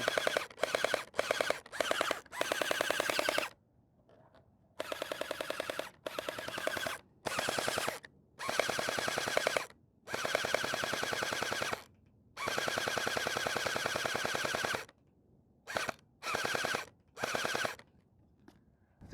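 Cosmoxtoys Sirius gel blaster firing in loud, rapid full-auto bursts, several separate strings of shots broken by short pauses, close and clear with no talking.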